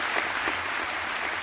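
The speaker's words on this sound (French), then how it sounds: "on peut l'applaudir, bien sûr, faut l'applaudir" A live comedy-show audience applauds in a dense, steady wash of clapping that fills the whole moment without pause.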